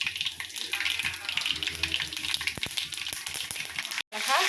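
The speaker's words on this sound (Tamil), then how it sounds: "கடுகு சேர்த்துக்கலாம்." Mustard seeds splutter and crackle in hot oil while tempering for a Tamil onion chutney, a dense sizzle with sharp pops, cut off briefly near the end before the frying resumes.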